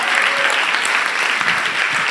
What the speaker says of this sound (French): N'applaudis le Seigneur